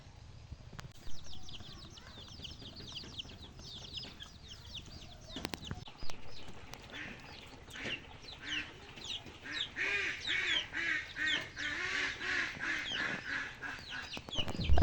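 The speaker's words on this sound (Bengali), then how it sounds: "এই যে মুরগিগুলোকে খাঁচায় তুললাম" Chickens are loaded into a cage on a farm, clucking and squawking in scattered bursts that grow busier and louder toward the end, with handling thumps and rustles in between.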